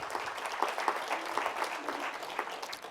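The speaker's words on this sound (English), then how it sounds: "a big round of applause" Audience applause for a corporate partner at an early-learning event, a steady wash of many hands clapping at moderate level with no talk over it.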